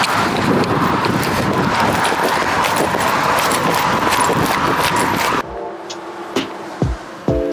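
Steady traffic roar from cars passing on a nearby road in Orange Beach, Alabama, washed with wind, then it drops away to quieter scattered clicks and taps.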